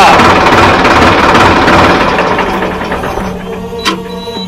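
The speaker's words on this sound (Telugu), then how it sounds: "కొత్త ట్రాక్టర్ ఊపుతున్నావు కదా?" A new tractor's engine runs close and loud, a steady broadband rumble with a throbbing low drone that eases slightly toward the end.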